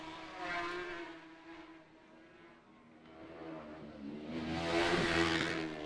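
Racing motorcycles at the Macau Grand Prix scream past in second gear, one high-pitched engine swelling and fading before a second, louder bike roars closer and passes.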